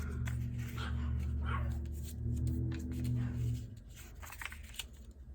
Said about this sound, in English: I'm sorry if you hear them barking out there.